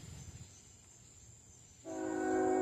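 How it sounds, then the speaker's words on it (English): A CSX freight train sounds its horn at a railroad crossing, a loud sustained chord blast that starts about two seconds in over quiet ambience with faint insects. "It's a train over there. But not just a train, but a CSX train."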